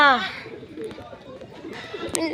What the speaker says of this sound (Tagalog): Bababa na rin yan mga kalapatids.